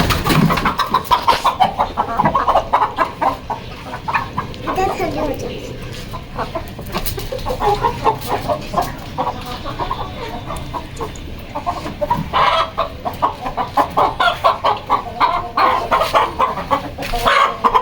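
Paper White Aseel hens clucking close by on a Mianwali farm, repeated short clucks running throughout alongside handling noise and occasional distant crowing.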